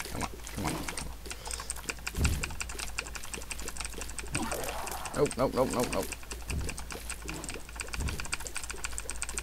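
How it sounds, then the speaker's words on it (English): Mechanical keyboard keys clatter in fast, dense bursts during a Binding of Isaac gaming session, steady and fairly close throughout, with someone speaking over the clicking. "If you can hear that massive amount of clicking, I'm sorry. I love my mechanical keyboard."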